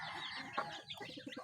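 Chickens cluck close by at their feed, giving a quick cluster of short, overlapping clucks with a few sharper peeps, fairly quiet and busy.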